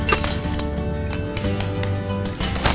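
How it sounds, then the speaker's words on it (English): An egg cracks against a bowl in a kitchen while cookie dough is being made, giving a few sharp close taps and clinks with a brief crunch, then quieter handling sounds. "So I'm just going to crack it in this bowl"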